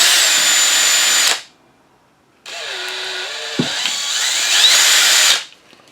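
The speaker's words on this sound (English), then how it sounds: "got my drill motor and I've got my drill in it" Power drill boring out and widening holes for an antenna build, two loud close bursts of whining motor with a short gap between them and the pitch sagging under load in the second run.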